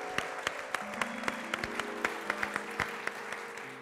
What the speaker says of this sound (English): Please, big round of applause for them